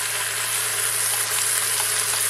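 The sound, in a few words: onions sizzling on top of pork in a pan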